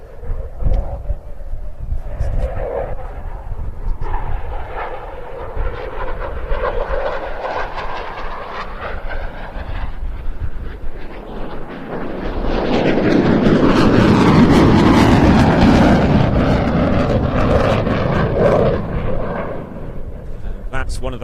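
A Eurofighter Typhoon jet fighter at a seaside air festival, flying a fast display of three and a half aileron rolls, gives a loud continuous jet roar that swells and intensifies midway, with a commentator talking over it throughout.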